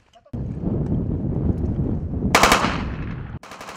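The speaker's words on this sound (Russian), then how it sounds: "Стрельба – отвлекающий маневр." A rapid, loud burst of automatic gunfire from a special forces training drill storming a building, sustained for about three seconds and cut off abruptly, with no talk.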